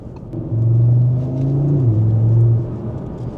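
A powerful car worth around 100,000 euros accelerating hard on the road: a loud, deep engine drone rises in pitch, dips briefly at a gear change, then climbs again before easing off, heard from inside with no talking.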